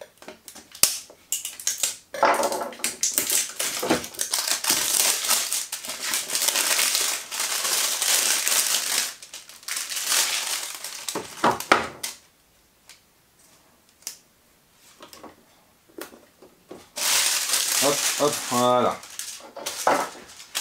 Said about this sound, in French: il va falloir que je prenne un petit ouvert-boîte parce que là, elle est fermée